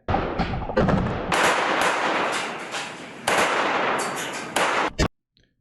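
Sustained gunfire crackles in combat footage, loud bursts of rapid shots and echoing reports that fill several seconds before cutting off abruptly.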